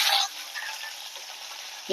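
Urad dal, a broken dried red chilli and curry leaves fry in hot oil for a yam tamarind curry, sizzling in a sharp burst at first and then settling into a softer, steady crackle.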